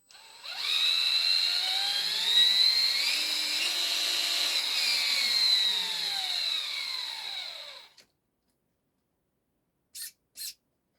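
Steady high-pitched electric motor whine of an FMS FCX10 LC80 RC crawler running in low gear, close and fairly loud, shifting pitch slightly before cutting off, followed by two short faint clicks.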